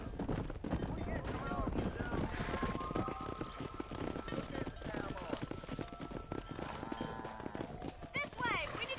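Horse hooves galloping in Red Dead Redemption: rapid, continuous clip-clop under frequent game voices, with a brief whinny.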